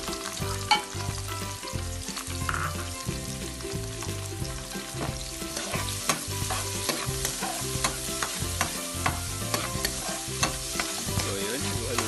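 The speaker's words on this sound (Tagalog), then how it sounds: "haluin lang natin hanggang sa maging golden brown" Onions, garlic and ginger fry in a pan for Filipino chicken arroz caldo, giving a continuous close sizzle broken by regular scraping and clattering of a spoon stirring, with no talking.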